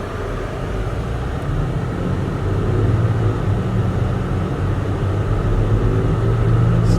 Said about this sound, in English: You don't really have to press in on the throttle that much in order for it to like start moving the truck.